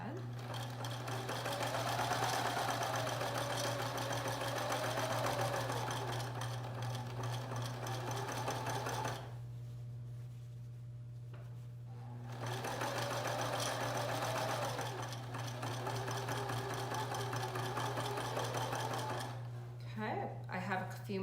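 Sewing machine stitching a cloth mask, a fast steady mechanical chatter up close that runs continuously, pauses briefly, then resumes over a low constant hum.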